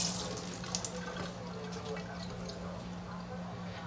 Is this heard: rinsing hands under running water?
yes